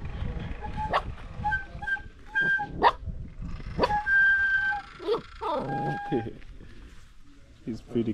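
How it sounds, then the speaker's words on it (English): A small puppy barks and yips in short sharp bursts, close by, playing with a motorcyclist, while people talk over and between the barks. "Our motorcyclist playing with the dog here."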